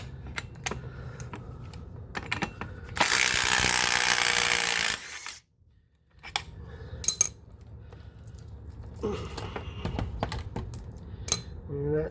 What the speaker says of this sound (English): I'll put a wrench on this.